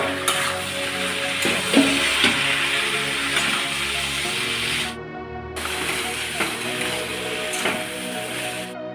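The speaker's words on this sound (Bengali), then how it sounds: "এটা একটু ভাজা ভাজা হয়ে গেলে আমি ডালটা দেবো। ভেজানো ডাল দিয়ে দিচ্ছি।" Soaked red lentils added to a pan and frying, for a homestyle masoor dal dish, give a steady close sizzle and hiss with some stirring scrapes, briefly cutting out partway through.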